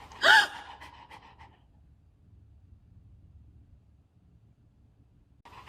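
A single sharp gasp from a person aimed at a dog, loud and close at the start, then fading into quiet breathy room noise with a faint sound near the end.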